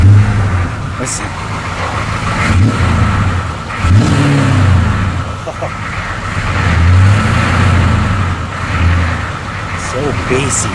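A GM 6.2 diesel truck revs through its exhaust in deep, bassy surges that rise and fall several times, close and loud, while people talk excitedly over it.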